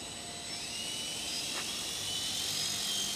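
A small custom-built coaxial model helicopter whines steadily at a high pitch outdoors, its motor droning continuously with a faint rising tone, fairly close.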